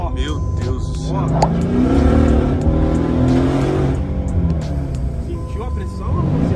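A Brabus car with an 850 hp biturbo V8 accelerates hard, its loud engine roar building and holding steadily for several seconds, with people talking excitedly over it.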